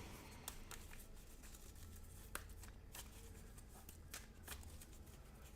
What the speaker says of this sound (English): We're going to shuffle this deck up to show there's no shenanigans going on.